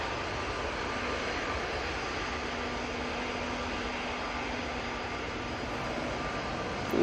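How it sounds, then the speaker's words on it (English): An Aer Lingus Airbus A330 arrives from JFK, a continuous broad engine rush with a faint steady tone running beneath, even in level and unaccompanied by talk. "Aer Lingus A330 coming in from JFK."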